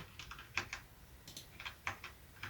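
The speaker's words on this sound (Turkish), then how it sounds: "Buna basınca klavye çalışmıyormuş." Keys pressed on a Gamepower Overlord keyboard, a series of crisp close clicks in irregular bursts, some pairs and single taps, with no voices.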